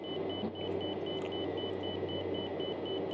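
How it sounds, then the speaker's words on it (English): A repeating cockpit warning beep in a Piaggio P.180 Avanti II flying in Microsoft Flight Simulator 2024, sounding as a steady evenly spaced series of short tones over constant engine and cabin drone. "What's beeping? Something's beeping"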